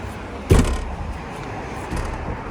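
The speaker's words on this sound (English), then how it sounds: "I'm closing the door." A U-Haul rental truck's door is pulled shut with one loud, close slam, followed by a short rattling decay and a softer knock near the end against steady outdoor background noise.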